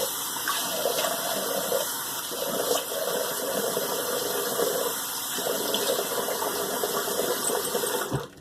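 Tap water runs steadily and loudly to rinse an alum block, a continuous close gush with slight shifts in flow and faint clatter, cutting off abruptly at the end.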